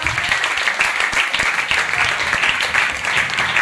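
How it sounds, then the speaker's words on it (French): A church congregation at a Tuesday service applauds for the glory of God, a dense, sustained clapping that fills the room at close range with possible voices mixed in. "Acclame pour la gloire de Dieu."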